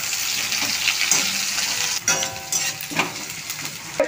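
Garlic and chopped onion sizzle briskly in hot oil in a pan, a steady close frying hiss with a few stirring scrapes and clinks, no voices.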